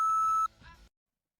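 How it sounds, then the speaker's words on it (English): A single steady electronic beep from a computer rings for about half a second, followed by a short stretch of muffled low noise before silence. "What is that beeping?"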